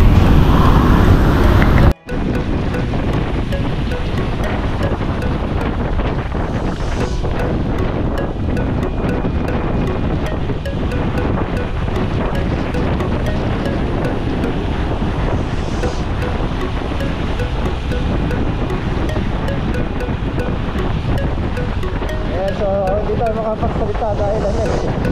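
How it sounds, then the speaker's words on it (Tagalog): Strong wind buffets an open microphone during a ride on an electric vehicle, a loud continuous roaring rumble lasting throughout, after a brief cut near the start. "malakas yung hangin"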